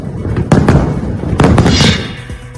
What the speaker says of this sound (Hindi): आसमान गूंज उठे पटाखों के धमाके।